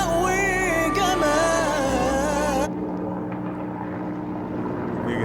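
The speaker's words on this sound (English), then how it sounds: "is that an airplane?" An aircraft drones loudly overhead in a steady, continuous roar that persists throughout, with a musical layer over it that cuts out midway, leaving the engine noise alone.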